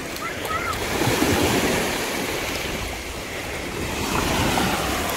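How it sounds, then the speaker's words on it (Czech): Sea waves washing onto a beach in Corfu, a steady broadband surf wash with gentle swells in loudness, roughened by wind buffeting the microphone throughout. "Martin s Lexou tady skáčou ve vlnách."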